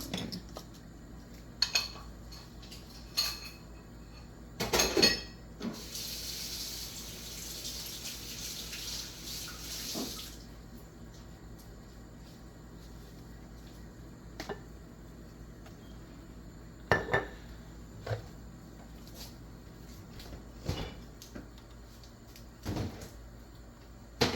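Dishes, cutlery and pans clatter in intermittent sharp bursts while a kitchen station is cleared after making unleavened homemade pancakes, with a stretch of running tap water and cupboard knocks between the quieter pauses.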